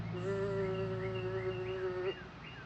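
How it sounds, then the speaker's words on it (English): A bumblebee buzzes as it arrives at tomato plants, a steady close drone that holds for about two seconds before its pitch drops and the flight sound fades off. "you're tending, weeding, and you hear the bumblebee come in"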